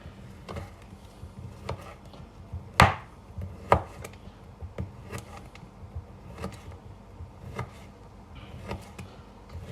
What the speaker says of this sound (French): Ici, je reprends mon chorizo. On va les couper très fin.